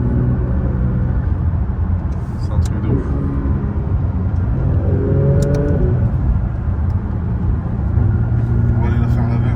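Porsche 992 GT3 RS driving through Paris streets, a deep engine drone throughout with rising rev sweeps, loud and close beneath people talking inside the car.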